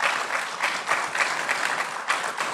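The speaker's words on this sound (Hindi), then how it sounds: "बहुत अच्छी बात है कि बम्बई में लोग ताली बजाते हैं" An audience claps steadily in a Bombay hall after a para-athlete's gold medal win, a dense, even patter of hands that continues throughout with no voices over it.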